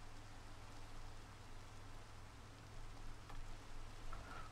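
Rain falling in Minecraft's Modern SkyBlock 3 modpack, a faint, steady hiss of drops with slight swells in intensity and a low background hum.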